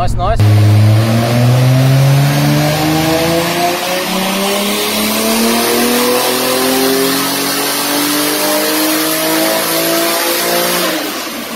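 A wide-body Toyota Supra with a TO4Z turbo, tuned to about 550 horsepower, revs hard up close, its loud engine note climbing steadily in pitch for several seconds before dropping off.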